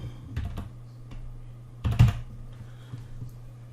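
Typing on a computer keyboard comes in a few quick, close clusters of key clicks, with a louder burst near the middle and otherwise a steady low electrical hum.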